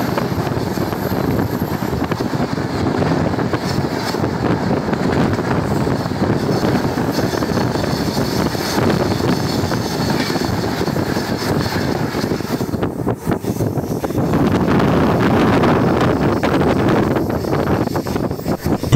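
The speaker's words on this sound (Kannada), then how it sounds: "ಈಗ ಮೈಸೂರು ಕಡೆಯಿಂದ ಒಂದು ಸೂಪರ್ ಫಾಸ್ಟ್ ಟ್ರೈನ್ ಬರ್ತಾ ಇದೆ" A superfast train coming from Mysuru rushes past with a loud, sustained rumbling roar and wind buffeting, staying heavy for the whole stretch and briefly dipping before surging again, with no talking.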